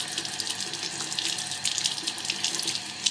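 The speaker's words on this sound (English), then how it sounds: "So now I'm going to rinse them." Tap water runs steadily into a sink while makeup brushes, including an e.l.f. brush, are rinsed on a Sigma Spa brush cleaning mat, a continuous close splashing hiss with no talking.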